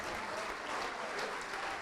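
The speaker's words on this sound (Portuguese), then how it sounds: "Vamos aplaudir mais ao nome de Jesus" Church congregation applauding together in worship, a dense, even wash of clapping that is fairly faint and distant throughout.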